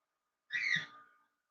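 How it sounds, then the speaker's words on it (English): A pet bird gives a single short, shrill squawk indoors, clear and alone against silence. "I need to get the bird out so he stops squawking."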